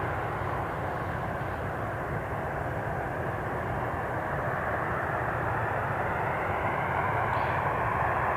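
Edelweiss jet airliner passing overhead at Newcastle International Airport, a steady, distant broadband roar that swells slightly toward the end, with no talking.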